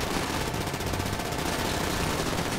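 Sustained automatic gunfire from a GTA Online heist shootout in a PC game, dense rapid bursts filling the whole stretch loudly with no pauses, no talking over it.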